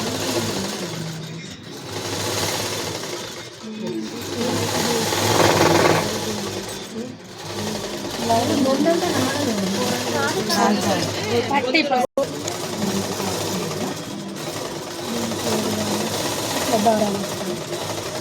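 A sewing machine stitches a folded hem on a small petticoat, its rapid mechanical chatter running in bursts and pauses while someone talks over it throughout.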